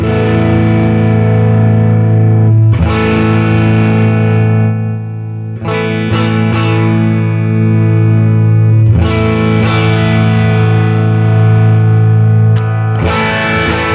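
An electric guitar played through a Fender Deluxe Reverb amp with gain turned up, sustained heavy distorted chords ringing out and fresh strums every few seconds, loud and close.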